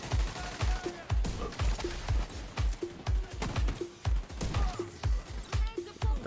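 Rifle gunfire in The Division 2 from a 1886 Regulus Virginian build, a heavy rifle: loud, punchy shots fire in a steady rapid rhythm, about ten evenly spaced booms with game effects.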